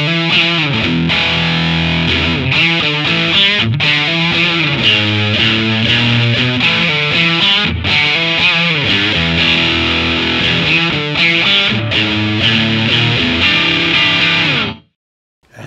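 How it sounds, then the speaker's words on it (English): Heavily distorted electric guitar through an Ammoon Pockmon multi-effects unit's distortion setting plays continuous chords and riffs, loud and thick with grit, before cutting off abruptly near the end. "The distortion."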